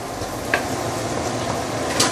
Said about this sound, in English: You need to prepare yourself as you are sauteing this.